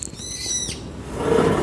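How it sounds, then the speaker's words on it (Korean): Birds call loudly outside a window, a short high warbling call followed by a noisy rushing background, heard close and alone. "새가 엄청 우네"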